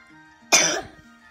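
One short, sharp cough sounds close by against a quiet background.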